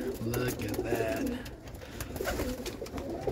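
Roller pigeons from a training kit coo in low, overlapping murmurs, close and steady throughout, with faint outdoor noise beneath.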